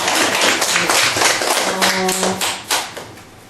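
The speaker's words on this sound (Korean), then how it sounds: "박수 부탁드립니다." Audience applause in a small Korean seminar room on goal setting, a dense patter of hand claps that swells and then thins toward the end, with a brief tonal murmur partway through.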